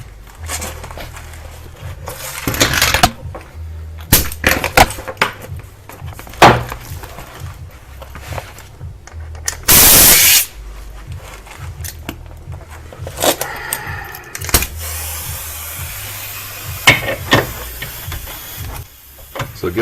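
A pneumatic impact gun hammers at a sway link bolt on a Subaru Impreza WRX, sounding as repeated short, loud rattling bursts with brief pauses between them and a sharp hiss partway through.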